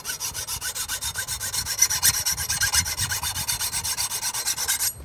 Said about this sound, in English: just push the file forward and lift up a little bit when you draw it back